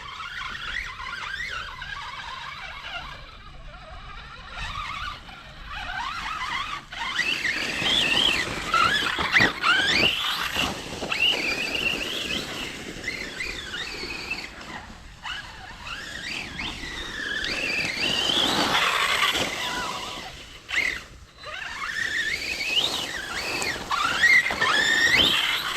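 Shrill, wavering whines and squeals come from a Kagama MTX radio-controlled car whose differentials spin while its tyres lose grip, rising and falling in pitch with changing revs across a long run of driving.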